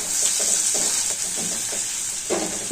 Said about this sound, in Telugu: మిరపకాయలు ఇది కొంచెం మిరగా వేయించుకోవాలి